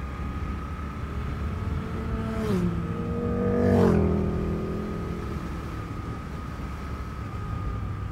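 A KTM motorcycle passes by on the road, its exhaust note rising as it approaches and falling away with a pitch drop as it goes past, heard over a steady low rumble of the rider's own bike.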